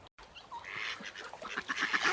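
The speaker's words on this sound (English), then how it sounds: "Having all these ducks around me is bringing me a bit of luck today" Ducks quack repeatedly by a river, several birds calling close by in quick, overlapping bursts that grow busier toward the end over a steady outdoor background.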